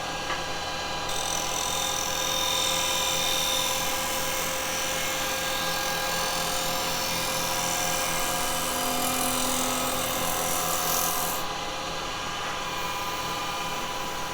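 A 1 inch Spowl gouge cuts a live edge ash bowl spinning on a wood lathe, giving a steady, continuous whirring hiss with a constant motor hum that shifts slightly in pitch as the cut changes, close and loud, with no talking.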